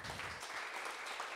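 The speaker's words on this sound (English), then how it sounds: "Round of applause for that team." An audience applauds a workshop team at a business forum, a brief burst of dense, even clapping filling the room.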